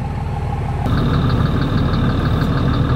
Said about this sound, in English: So it's like that vibration transmitted through the sheet metal, making it loud in the cab.